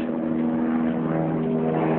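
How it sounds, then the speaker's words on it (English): A helicopter drones loudly and steadily overhead, its low rotor hum constant and close throughout the short clip. "When this helicopter pisses off for a second."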